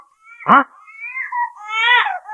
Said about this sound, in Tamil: குழந்தையின் அழுகுரல் சத்தம்